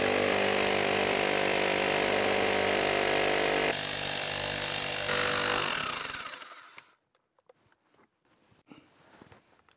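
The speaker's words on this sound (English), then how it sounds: "my absolute favorite is to use the spike attachment with a scrapped half-inch socket on the end of an SDS Max" SDS Max rotary hammer fitted with a spike attachment and a scrapped half-inch socket driving a ground rod into the earth for an off-grid solar build; loud continuous hammering for about six seconds, then it stops, leaving faint scattered knocks.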